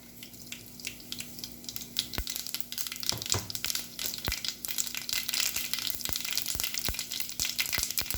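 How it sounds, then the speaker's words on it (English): Mustard seeds splutter in hot oil inside a pressure cooker, a steady sizzle broken by sharp irregular pops that grow denser as the clip goes on, with no voices. "I'm adding some mustard seeds. Let it splatter completely."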